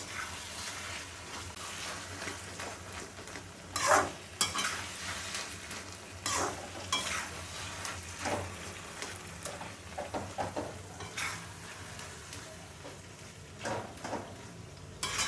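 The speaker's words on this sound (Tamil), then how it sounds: "மாங்காய் நல்லா வதங்கிடுது" Mango pieces for pickle sizzle in oil in a pan, with intermittent scraping stirs; a soft, steady frying hiss is broken by louder spoon strokes every second or two.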